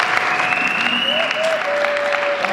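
A congregation applauds to acclaim the Lord during a religious wedding celebration in a church, steady dense clapping filling the room with a sustained tone held over it.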